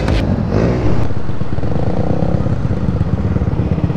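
B-Boy's loaded Yamaha Aerox V3 scooter rides past up close, a loud, steady engine drone with a rough, rumbling clatter that holds evenly throughout.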